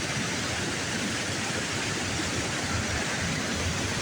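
A waterfall on a river roars with a steady, dense rushing wash that holds at an even level from start to finish, with no voices over it.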